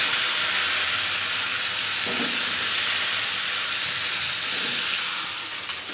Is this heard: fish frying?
yes